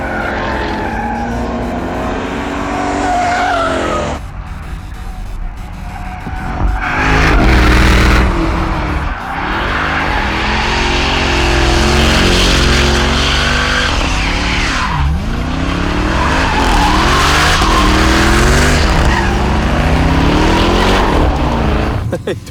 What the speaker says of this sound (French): j'entends le truck pareil comme c'est moi qui le roulerais